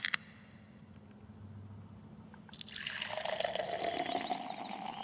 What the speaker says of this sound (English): our hard cider is so good, it pours itself